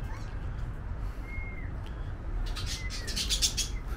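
Several birds chirp and tweet in an aviary cage, the calls growing busier and brighter toward the end over a low background hum.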